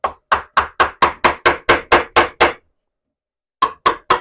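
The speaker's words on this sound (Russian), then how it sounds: "я всего лишь стучу молотком по алюминиевой крышке" A hammer taps on the aluminium engine cover of a first-generation Yamaha R1 motorcycle in about ten quick, evenly spaced, ringing metallic strikes. After a silent pause, three more strikes follow, all close and loud.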